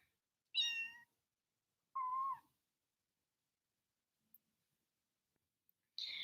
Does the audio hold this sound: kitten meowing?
yes